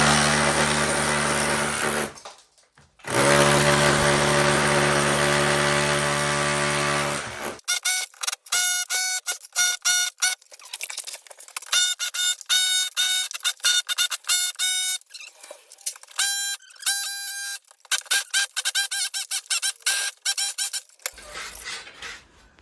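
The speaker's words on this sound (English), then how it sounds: "Now I'll try and get a bit of video of chipping for you." Cordless chipping hammer, Festool and Milwaukee, chips at a surface indoors, starting with a long, loud, high-pitched run, a short pause, another run, then rapid stuttering bursts of hammering that stop and start in quick succession, close up.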